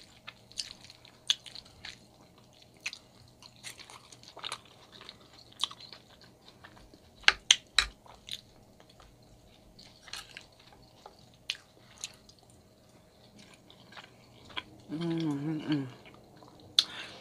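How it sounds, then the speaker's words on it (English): Close, quiet chewing of leftover soul-food mac and cheese, with soft wet mouth sounds and scattered small clicks and smacks, then a louder burst of squishy chewing near the end, no speech over it. "I'm starting with the mac and cheese."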